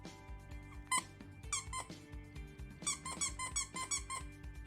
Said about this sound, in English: Can you hear the squeak, Shadow?